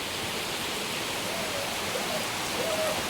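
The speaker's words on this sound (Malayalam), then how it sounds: "നല്ല മഴ കേട്ടോ" Heavy rain pours down as a dense, steady hiss that stays even and fairly loud throughout, with no voices.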